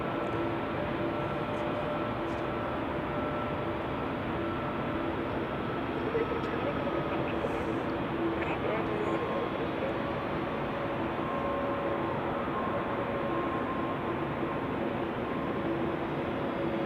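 Airliner arriving at Zurich Airport on a winter day, a steady broad engine roar holding throughout at moderate distance with no clear rise or fade.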